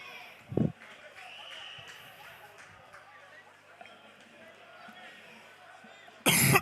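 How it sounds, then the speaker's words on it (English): One short cough rings out early, then quiet room tone follows before a loud harsh cough bursts at the very end, from a live football commentator at a Coventry United versus Godmanchester Rovers match. "apologies for the coughing"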